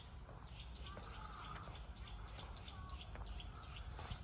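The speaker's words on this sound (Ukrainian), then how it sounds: "послухати спів пташок" Birds sing faintly in a green park in Lviv, giving scattered chirps and tweets against a low, steady ambient rumble. The calls sound distant and quiet.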